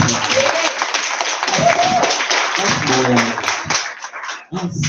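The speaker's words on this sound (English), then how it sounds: "Can we give him a round of applause again?" An audience at a formal opening ceremony claps in a sustained round of applause, fairly close and loud, while someone speaks over it on a microphone.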